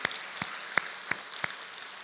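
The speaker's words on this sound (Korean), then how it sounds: "우리 하나님께 감사의 박수." A church congregation at a Sunday service claps in unison, five crisp, evenly spaced claps in quick succession, moderately loud with no voices over them.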